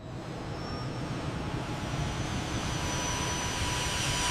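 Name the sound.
airplane on landing approach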